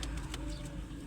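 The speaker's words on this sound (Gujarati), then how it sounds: "આવી રીતે કંઈક કબૂતર છે." Pigeons with chicks and eggs in a home loft or coop, soft close-up cooing with a few faint chirps, steady and fairly quiet.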